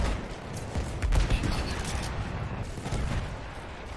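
Gunfire in the Battlefield 1 video game, a dense stretch of layered shots and distant booms that swell around the middle and keep rumbling steadily to the end.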